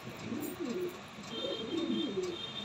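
Golden chapga pigeons coo softly and repeatedly, low rolling calls in a steady rhythm, close by but quiet against faint background hiss.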